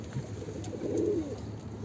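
A pigeon coos softly at close range, a low murmuring burst near the middle of the moment, over a steady hum and faint background noise.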